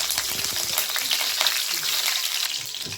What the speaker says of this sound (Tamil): நெக்ஸ்ட்டு பட்டை அப்புறம் ஒரே ஒரு லவங்கம் ஒரு லவங்கம் போட்டுக்கலாம் நெக்ஸ்ட்டு கருவேப்பிலை போட்டுக்கோங்க